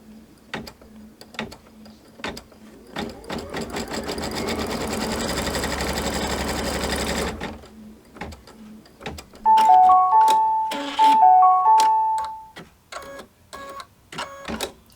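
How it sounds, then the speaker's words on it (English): A sewing machine stitches a patriotic pinwheel quilt block, running in a steady mechanical whir for several seconds, with clicks and handling noises before and after and a few electronic beeps. "And now we're going to stitch this one down into place."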